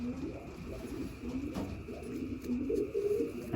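A racing pigeon coos softly and repeatedly as it is held in the hand, the low murmuring calls near and steady against faint background noise.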